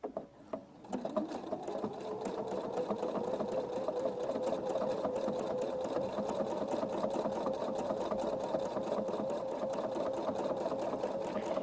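A sewing machine stitches fabric guided along a circles and straights ruler tool, running at a steady, fast, even hum after a few brief start-up clicks, close and prominent with no talking.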